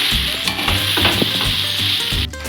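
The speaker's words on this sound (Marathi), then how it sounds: "आता आपण हे व्यवस्थित असे मिक्स करून घेऊया ज्यामुळे आपला मसाला पोह्याला सर्वत्र लागला जाईल" Masala poha is stirred in a hot pan, a spoon scraping and turning the flattened rice in repeated strokes over a steady sizzle, close and fairly loud, with no talk.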